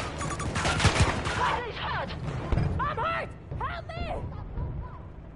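Gunfire bursts from the Battlefield 2042 video game, rapid cracks and volleys clustered in the first two seconds with scattered shots after, mixed under game sounds and excited talking voices.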